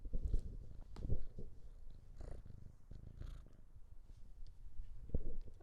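A cat purring up close, a low rumbling rhythm with soft pulsing breaths, fairly quiet and continuous.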